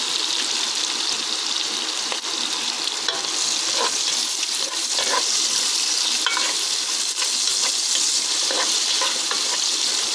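Garlic and carrot fry in oil that was used for meat the night before, a steady, loud sizzle with faint scraping as the pan is stirred.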